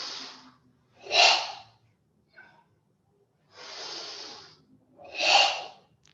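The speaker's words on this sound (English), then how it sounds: "So inhale, exhale" Forceful, noisy breaths during a stone padlock (ishi sashi) exercise: four strong bursts alternating in and out, each about a second long, with the exhales sharp and hissing, close and loud with pauses between.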